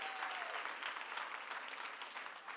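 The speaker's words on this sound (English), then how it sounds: "Give her a big round of applause" Applause from an audience at a talk on increasing net worth, a sustained crowd clapping at moderate distance, fairly steady with faint voices mixed in.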